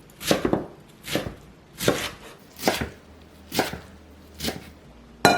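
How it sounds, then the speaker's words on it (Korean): A kitchen knife chops through vegetable roots and stalks on a cutting board, cutting them into bite-sized lengths for a Korean side dish. About seven crisp, evenly spaced cuts sound up close with no talk over them. "뿌리 부분은 살짝 잘라내고 먹기 좋은 길이로 자르세요"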